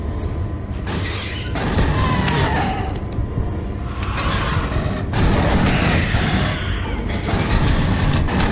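Dense, continuous gunfire and booms from the sci-fi shooter game Aliens: Colonial Marines, loud and sustained throughout with heavy low rumble and layered combat noise.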